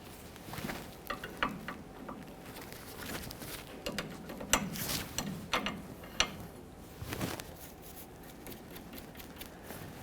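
A 21mm wrench works loose the jam nut on a tie rod of a 1999-2006 Chevrolet Silverado 1500 during a steering rack job. Clicky metallic ratcheting and clanking comes in irregular bursts, close by and without talk.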